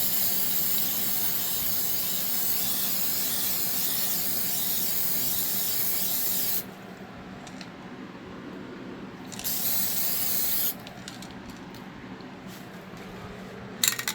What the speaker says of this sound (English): I swear I have sprayed an even coat over here